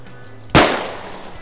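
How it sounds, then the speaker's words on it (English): A single sharp gunshot in ArmA 3, fired at a zombie in a snowy winter map, cracks loudly up close and decays with a short echoing tail. "I think I'm going to have to shoot him so I can loot it."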